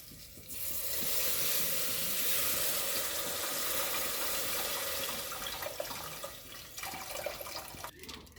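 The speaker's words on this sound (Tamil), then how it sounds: "தக்காளியும் புளியும் கரைச்சி வச்சுட்டு அதை ஊற்றிக்கலாம்" Tomato and tamarind water pours steadily into a pot for rasam, a continuous splashing rush with a faint sizzle, fairly close, tapering toward the end.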